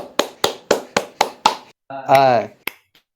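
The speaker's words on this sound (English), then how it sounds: "Yes, round of applause for Nugget." A few claps for Nugget during an online call, about six evenly spaced claps, then a cheering voice and one last clap.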